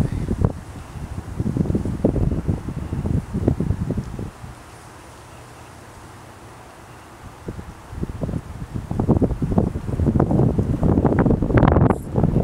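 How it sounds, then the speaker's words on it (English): Wind buffets an outdoor microphone at night with a steady low rumble that dips briefly and then swells again into stronger gusts, with no voices. "Wind blowing out here."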